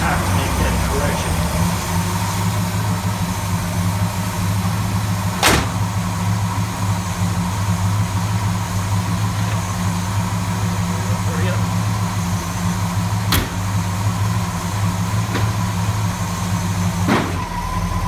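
A 1970 Ford LTD engine idles steadily and close, fresh spark plugs fitted, giving a smooth, even low rumble with a few sharp clicks breaking through.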